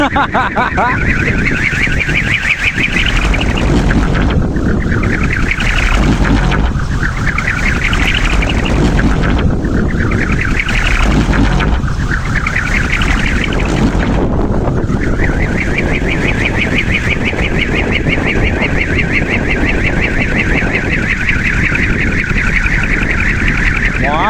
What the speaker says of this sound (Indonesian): itu dia angin.